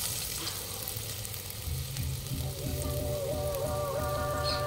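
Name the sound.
curry leaves and chopped onion frying in hot oil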